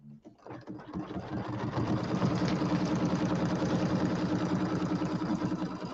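An embroidery sewing machine stitches a pillow top piece, a steady mechanical whirring that ramps up quickly and holds a continuous, loud, even drone throughout.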